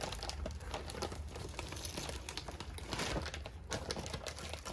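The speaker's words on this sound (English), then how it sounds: "All of this is a resin, so let's pick this up. Let's peel it off." Dried resin peeling off a surface in an art studio, a continuous close crackling and crinkling with small snapping tears throughout, with no talking.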